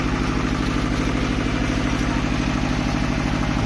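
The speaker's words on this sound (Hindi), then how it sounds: "15 kVA 3 फेज का जनरेटर है ये" A Kirloskar 15 kVA three-phase diesel generator on a trolley runs steadily, a close, even rhythmic chugging with a dense mechanical clatter and no pauses.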